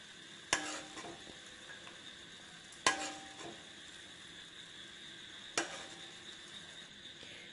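Badusha dough balls frying in oil, a faint steady sizzle broken by three sharp metallic clinks of a utensil against the pan at even intervals.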